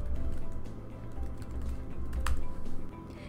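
Login credentials being typed on a computer keyboard: a run of light, quick key clicks over a steady low background hum, fairly close and without speech.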